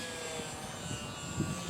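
Tiny Horizon UMX Cessna 182 RC model airplane flying a loop in a light breeze, its faint electric motor and propeller drone thin and distant against steady outdoor background noise.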